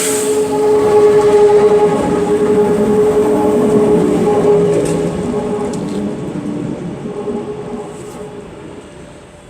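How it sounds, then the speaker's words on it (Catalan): Locomotive 111 pulls away from Ribes de Freser station toward l'Hospitalet, a loud rail rumble with a sustained tonal horn-like note in the first half, then fading into the distance. "la 111 que se'n va cap a l'Hospitalet"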